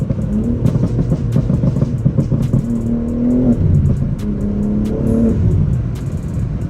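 BMW M5 engine revving hard under half throttle while driving with little traction, a loud, close, steady roar that climbs and falls in pitch through repeated pulls, with no talking.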